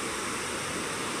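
The Megdi river stream flowing, a steady, dense rushing hiss of water heard alone and close with no breaks.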